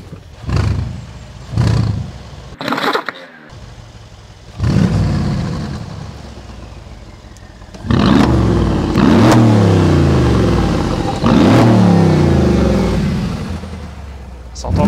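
A German car's engine revs in several loud, roaring bursts, rising and falling with pauses between, the later revs longer and sustained, with brief talk in between.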